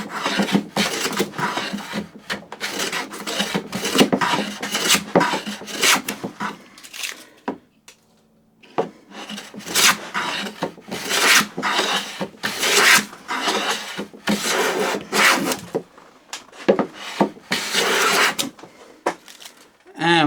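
Hand plane taking fine shavings off a board, a run of repeated rasping strokes with a short pause near the middle, close and fairly loud, with someone talking between and over some strokes.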